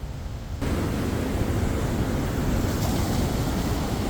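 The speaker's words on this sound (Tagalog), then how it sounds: "Malaki na ang mga alon, oh." Large ocean waves whipped up by Cyclone Alfred in Australia roar without pause, a loud, dense wash of surf mixed with wind buffeting against the microphone.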